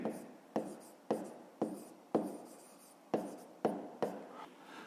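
Pen writing on paper during a fifth-grade maths exercise, a close, quiet series of about eight short scratchy strokes in a steady rhythm.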